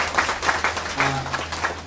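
An audience at a religious discourse claps in steady applause for a couple of seconds, moderately loud, with faint speech in the background.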